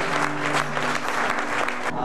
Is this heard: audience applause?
yes